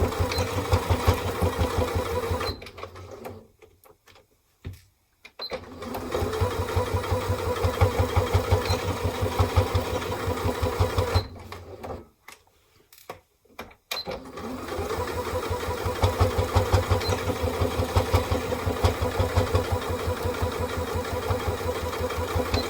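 A sewing machine runs a long straight row of stitching across the top of a padded tote bag, its steady rapid mechanical chatter loud and close, pausing twice briefly before resuming.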